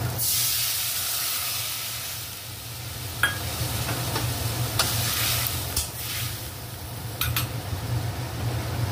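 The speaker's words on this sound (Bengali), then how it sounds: "এবার জল দিয়ে দিচ্ছি।" Water poured into a hot pan of fried spices while cooking kochur gathi, setting off a loud, steady hissing sizzle that slowly eases, with a few sharp crackles and clicks.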